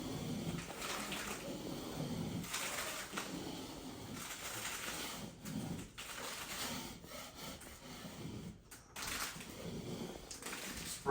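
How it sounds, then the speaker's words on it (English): Cold water sprayed up onto a popcorn ceiling in a room being made over, a steady close hiss and wet rubbing that runs for several seconds with brief pauses and stops. "Spraying the cold water up here, and it works halfway decent"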